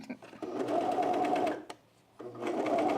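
A sewing machine stitches men's jeans in two quick, fast-running bursts separated by a short pause, close and fairly loud, with a person talking over it.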